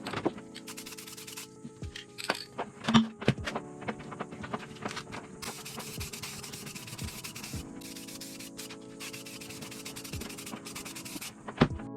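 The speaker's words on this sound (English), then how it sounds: "So here I'm block sanding the body filler that I applied to match the quarter panel" Rhythmic scratchy rubbing of a sanding block over body filler on a car quarter panel, repeated strokes with occasional knocks and taps, close up and steady.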